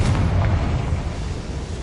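A Confringo blasting spell from Hogwarts Legacy explodes as a loud, close, deep boom that rumbles on and slowly fades for about two seconds, with nothing else heard over it.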